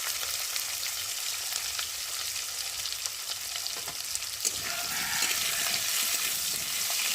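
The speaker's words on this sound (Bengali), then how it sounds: "আলুটা লাল লাল করে ভেজে নিয়েছি" Thin-cut potatoes and green chillies fry in hot oil with a steady, even sizzle that carries on without a break, close and moderately loud, with no voices.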